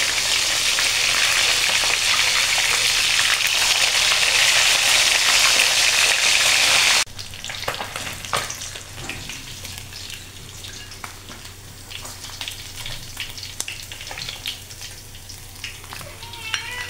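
Tilapia fried in a pan gives a loud, dense sizzle for several seconds, then drops to a quieter crackle with scattered pops and stirring clatter.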